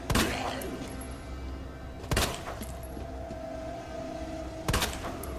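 Three loud pistol gunshots in the video game Resident Evil 2 Remake ring out at uneven intervals, sharp cracks over a steady low hum and faint background noise.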